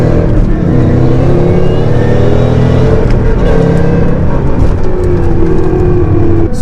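A Roush-supercharged 2011 Ford Mustang with a six-speed manual revs close by, a loud engine note rising and falling through several sweeps with a faint supercharger whine on top.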